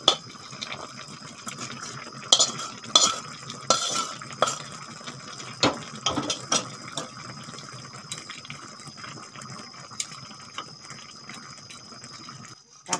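Fried fish heads are stirred and broken into taro greens in a pan, with wet squelching stirs and clinks of a utensil against the metal pan in irregular bursts.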